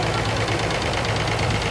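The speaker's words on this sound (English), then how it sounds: "Diesel powered. Farmall 560 from 1958 or 9." A diesel Farmall 560 tractor from 1958 or 1959 rumbling past at a parade during a steam and gas show, a loud, steady, knocking engine drone close by with dense broadband noise.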